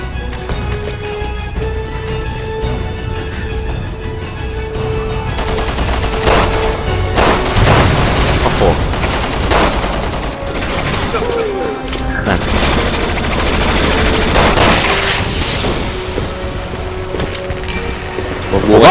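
Gunfire and explosions from Resident Evil 6, in Chris's chapter, come as bursts of sharp shots and booms over a busy game soundscape, with players talking over the action.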